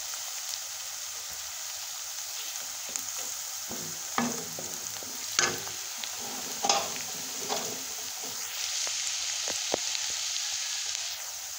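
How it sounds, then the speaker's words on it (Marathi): Onions sizzling in a pan while being fried to golden brown for upma, a steady close crackling hiss broken by several louder scrapes of stirring. "कांदा मस्तपैकी आपण गोल्डन ब्राऊन होईपर्यंत भाजून घेऊ"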